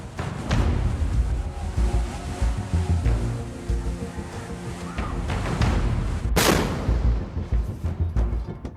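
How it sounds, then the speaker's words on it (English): USS Sampson's 5-inch 54 caliber naval gun firing in a live fire exercise at sea: booming reports over a continuous rumbling wash of wind and engine noise, with one especially sharp, loud blast late on. "This live fire exercise shows the sheer power of the USS Sampson's 5-inch 54 caliber gun."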